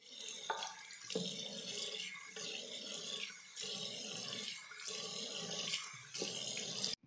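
A shower runs steadily during a makeup shower test, a continuous hiss of spraying water that shifts slightly as the flow hits different surfaces, with no talk.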